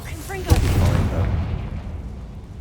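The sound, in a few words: Confringo blasting spell explosion in Hogwarts video game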